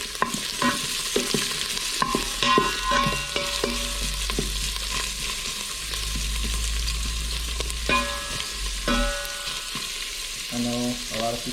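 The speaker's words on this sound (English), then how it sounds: "Give it a quick stir." Onions sauté in an Instant Pot as a utensil stirs them, giving scraping and clinking strokes over a steady sizzle, close and fairly loud.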